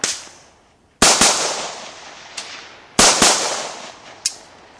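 AK-74 rifle gunshots fired outdoors: two loud pairs of sharp cracks, each followed by a long rolling echo, with a fainter single shot after each pair.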